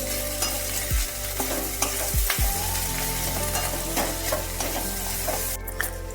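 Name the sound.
stirring food in a covered pan on medium flame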